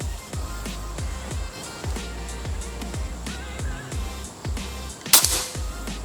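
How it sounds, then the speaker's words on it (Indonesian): About a dozen sharp, snappy reports fired in a steady rhythm from a Predator OD 38 monoblock PCP air rifle during an accuracy test, each a quick pop with a short tail. One brighter, harsher crack near the end. Moderately close, with no talk. "untuk tes akurasi kita coba 5 tembakan saja ya."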